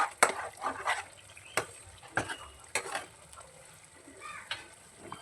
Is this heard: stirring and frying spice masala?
yes